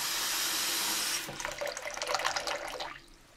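Warm water runs from a tap into a sink for washing sanding dust off plastic model car parts, a brief close splashing stream that starts after a second of hiss and stops before the end.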